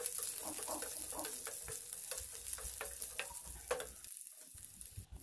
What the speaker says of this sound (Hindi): अब इसमें डालें करी पत्ता, क्यूब्स में काटा हुआ अनियन, शिमला मिर्च, इसे लाइट फ्राई करेंगे।